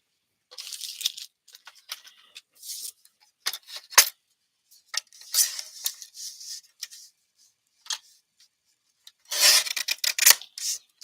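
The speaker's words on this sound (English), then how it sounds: "And this is really good because now we can just cut this little strip off." Scissors snip a little strip off paper for a mini album craft, a series of short crisp rasping cuts in bursts, with a longer louder run of cutting near the end and no talking.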